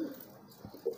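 A racing pigeon coos softly, a couple of low, brief throaty calls close by, over faint background noise.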